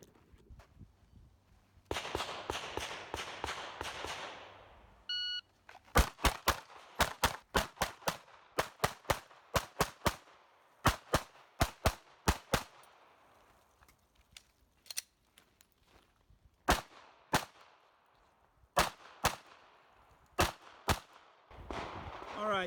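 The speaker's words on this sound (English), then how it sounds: "I'm going to do 2 shots each to the head box" Pistol fire from a Shadow System XR920 and a Glock 19M on a shooting range, loud sharp shots in quick pairs and short bursts, with gaps between strings and some faint background noise.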